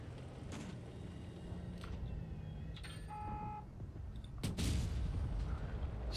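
A tank gun fires in World of Tanks Blitz: one heavy boom lands late, over a steady rumbling battle ambience with faint earlier thuds and short electronic beeps.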